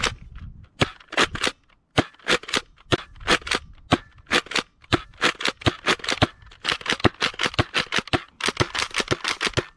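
A Nerf Pro Torrent spring blaster fires darts downrange in a long series of sharp, close snapping shots. They come in quick irregular bursts with short pauses between groups.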